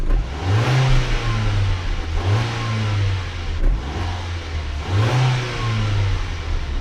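Old Audi engine, a cheap car left to rot for about five years, running after a jump start, its revs rising and falling in three or four strong swells over a steady rough drone, close and loud with no talk.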